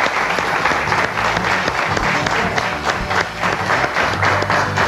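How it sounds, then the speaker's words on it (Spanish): Dense, sustained applause from a concert audience fills the clip, steady clapping close and loud with crowd noise underneath. "¿Podemos brindar un aplauso más grande,"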